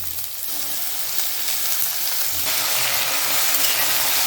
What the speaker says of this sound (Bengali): জল না দিয়ে পুরোটাই আমি একদম ঢাকা দিয়ে এটাকে ভেজে নেব